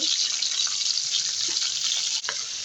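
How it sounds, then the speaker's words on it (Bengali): Onions frying in a wok give a steady, loud, dense sizzle throughout, with faint stirring scrapes and a brief dip near the end. "এবার পেঁয়াজগুলো ভেজে নিচ্ছি।"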